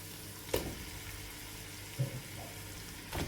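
Chicken pieces frying in a pan with sautéed onions, a steady sizzle broken by a few sharp stirring scrapes and clatters, close and moderately quiet.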